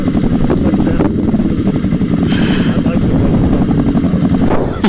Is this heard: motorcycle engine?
yes